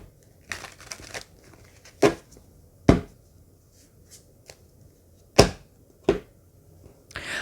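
Tarot cards are shuffled by hand in a quiet room, a handful of sharp riffling snaps and soft papery rustles spaced irregularly, close and alone.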